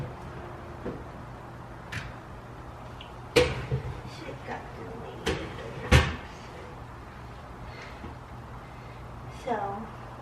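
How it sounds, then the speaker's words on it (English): A door being opened in a room while it is decorated with wrapping for Christmas or Hanukkah, heard as a few sharp knocks and clicks spread over quiet background hum, one louder thud near the middle. "open the door"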